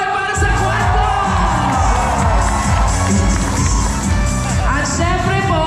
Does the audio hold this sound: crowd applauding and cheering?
yes